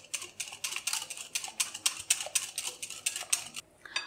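Condensed milk being mixed into whipped cream for pistachio ice cream, a utensil tapping and scraping in quick, regular strokes against a bowl, close and fairly soft, ending in a brief pause.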